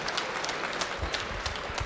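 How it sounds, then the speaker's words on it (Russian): Audience applause at a fight event in Podolsk, a dense, steady roar of clapping from a crowd that stays loud and even throughout the short burst, with no speech over it. "И еще раз одарить достойными, заслуженными аплодисментами Николая Майданчука"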